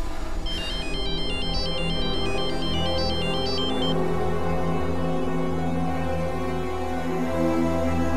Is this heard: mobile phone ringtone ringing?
yes